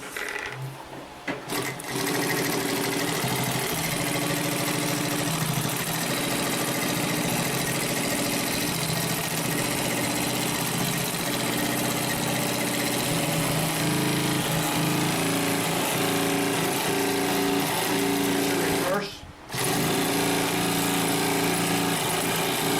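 A Consew P1541S-CC walking-foot sewing machine stitches over thick layered seams, a loud continuous rapid mechanical chatter that pauses briefly near the start and again close to the end.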